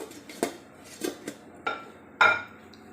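A lid is set onto a cooking pot of sinigang na pampano, giving five separate metallic clinks and clatters that build to a louder final clank, with no voices.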